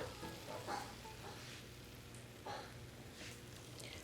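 Beef strips for fajitas hit a pan of frying vegetables, making a steady close sizzle with soft stirring and scraping swells over a low background hum; no one talks.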